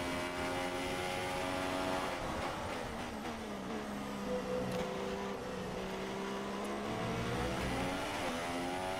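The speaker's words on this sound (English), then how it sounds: "Just got random other car sounds very loud." Engines of rival Formula 1 cars in the F1 2016 video game at the Hungary circuit blare loudly, high-revving whines rising and falling in pitch as cars pass close by for several seconds.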